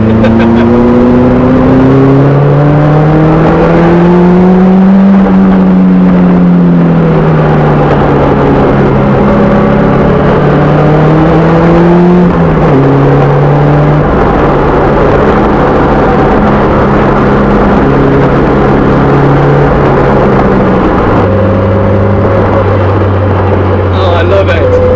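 A car engine accelerates hard on an open road, rising and falling harmonic tones climbing through the gears, loud and close throughout, with a voice talking over it.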